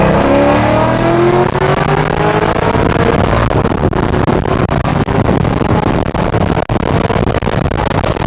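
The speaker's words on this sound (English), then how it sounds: "these cars sound nasty" A 2009 Corvette C6 Z06's loud V8 engine revs hard and accelerates in second gear, its roar rising in pitch and staying dense and powerful throughout.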